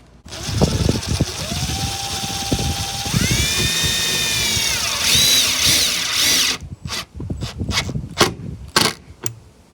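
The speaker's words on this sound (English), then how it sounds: "You get your impact, put this anchor on here like that, and we're just going to drill it in." An impact driver spins a wall anchor into sheetrock, whining steadily and then rising in pitch, before ending in a string of sharp, rapid hammering bursts close by.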